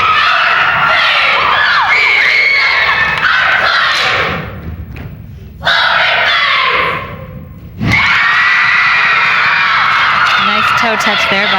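Fans in a big crowd cheer at a 1999 high school competitive cheer final, Class C and D. The roar is loud and steady, dips briefly twice, and commentators talk over it.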